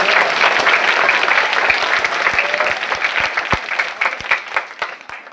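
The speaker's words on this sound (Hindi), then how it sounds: "इन सारे गुरुओं के लिए जोरदार तालियां होनी चाहिए।" An audience applauds for teachers at a Hindi-speaking gathering, a steady dense wash of clapping with a few sharper individual claps standing out, slowly thinning toward the end.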